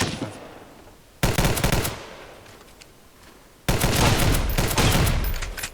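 Heavy automatic gunfire in a survival shooter video game: two loud, sustained bursts of rapid machine-gun fire, the first lasting about two seconds and the second about two seconds, separated by a quieter lull with scattered distant shots.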